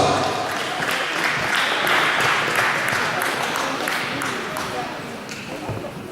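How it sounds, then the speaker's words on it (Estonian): Applause rises from the audience at a dance sport competition after the rumba final, a thick, continuous clapping that holds steady and slowly fades, with a few sharper claps standing out. "Ning suurete võistlejatega rumba eest aplaus."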